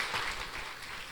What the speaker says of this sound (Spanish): Denle un aplauso a Cristo por eso.